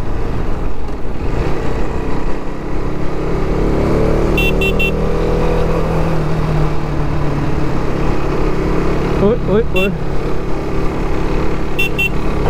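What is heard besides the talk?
KTM RC 390 motorcycle riding in traffic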